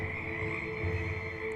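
A gigantic toad croaks in a steady, droning trill that holds at an even level throughout, near and alone.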